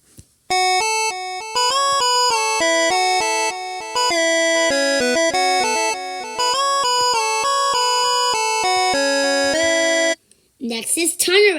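Simon, a character from the Sprunki music game, gives a loud, steady run of bright melodic synth tones in a quick rhythmic pattern for about ten seconds, followed by a short burst of a different voice-like sound.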